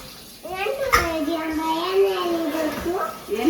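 Water runs steadily in a home kitchen during cooking, a continuous wash of sound partly buried under someone talking throughout.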